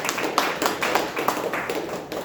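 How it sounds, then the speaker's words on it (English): A round of applause at a Toastmasters club meeting, made of a few fairly close, regular claps and taps in an uneven rhythm, with no talking over them. "Let's have a round of applause for the other players of the day for the meeting"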